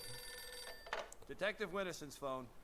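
A telephone rings with a steady electronic bell tone in the Max Payne 2 video game, then a voice speaks over the fading ring.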